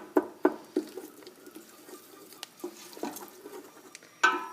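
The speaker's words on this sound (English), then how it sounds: "I'm going to add in my whole chili. Mix them up a little." Whole chillies are stirred in a pan for chilli con carne, making soft, intermittent scraping and clicking taps of a spoon on the pan, faint and close, with no speech.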